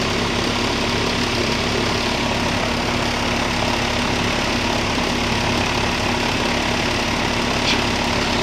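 A 2011 or 2012 Airtemp (Nordyne) 3.5-ton straight-cool central air conditioner running on R22, a steady close motor hum and whooshing fan drone with a constant tonal whine throughout.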